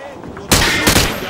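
Rapid bursts of hip-fired automatic gunfire at targets in Call of Duty: Modern Warfare 2, two loud, close volleys separated by a brief pause after a quiet start.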